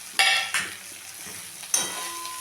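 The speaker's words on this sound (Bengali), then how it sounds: "ভাজা আলুটা মিশিয়ে নিলাম।" A spoon stirs fried drumstick flowers together with fried potato in a pan, cooked with mustard and poppy seed paste. A few sharp scraping, clinking strokes stand out over a faint sizzle, with no talk.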